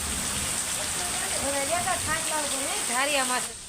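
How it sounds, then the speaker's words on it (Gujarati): Heavy unseasonal summer rain patters down in a constant wash of noise while a voice speaks over it. "ફૂલે ફૂલ વરસાદ આવ્યો જો"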